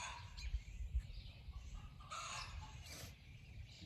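A backyard hen clucks while laying an egg, giving short, repeated, fairly faint calls at a distance over low background noise, with no talking.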